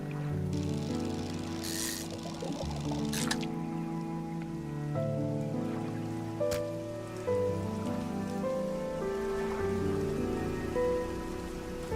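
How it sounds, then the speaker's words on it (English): Steady patter of rain falling on a surface in the video game Dredge under a bright, tonal music track, continuous and even throughout with no talking. "It's raining today."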